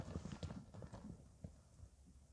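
Ulak horses, readied for the Kyrgyz horseback goat-carrying game, gallop with quick, faint clip-clopping hoofbeats heard from a distance, soft and uneven over a couple of seconds.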